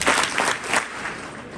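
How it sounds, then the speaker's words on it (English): A high school audience of delegates gives three big claps after a candidate's speech. The three distinct bursts come close together, then a softer scatter of clapping fades out. "Okay, 3 big claps for that speech."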